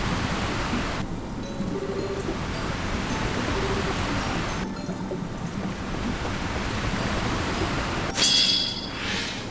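Steady, broad hiss of steam rising from boiling water in the video game Trails in the Sky SC, continuous and even throughout, with a brief brighter burst near the end.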